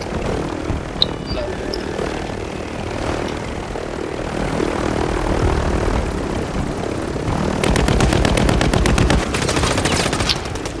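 Call of Duty gunfire crackles in rapid bursts over a droning aircraft engine, with a dense run of automatic shots growing louder near the end.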